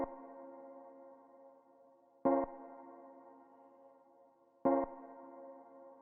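An Elektron Digitakt pattern with a filter trig lock plays a sustained, quiet synth tone. The note retriggers twice with a sharp, bright attack each time, then decays softly between hits, with no voices.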